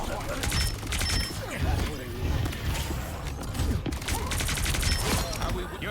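Rocket's gun in a Marvel Rivals match rattles off in rapid bursts amid a busy battle, shots clustering in two dense stretches with someone talking over the gunfire.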